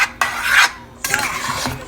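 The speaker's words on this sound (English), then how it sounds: "make sure that you mix it all the way through really well so you don't end up getting a clump" Curry paste is stirred into a simmering sauce in a pot for an Indian dish, giving repeated scraping, rasping strokes of a utensil against the pan in short bursts, close up with no talk.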